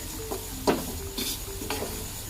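Cabbage being stir-fried in a pan, a soft continuous sizzle with a few distinct scraping strokes of a spatula, close but quiet, without any talking.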